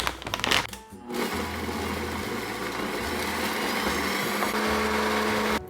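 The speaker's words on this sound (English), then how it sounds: "so let's grind up some oats" A loud blender grinds oats in a home kitchen, a steady dense whirring roar that continues without pause after a brief clatter at the start.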